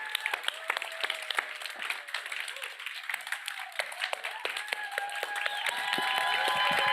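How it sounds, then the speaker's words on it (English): Event audience giving a round of applause, scattered claps rising into fuller steady clapping toward the end, heard from within the room. "Let's have another well-deserved round of applause for all the stories shared today."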